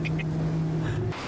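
A one-million-dollar car doing donuts on a private racetrack gives a brief, loud, steady engine drone with a shift in pitch near the end, heard close and without speech.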